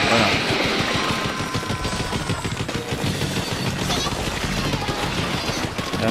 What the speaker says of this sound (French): c'est un ulti où il balance une roquette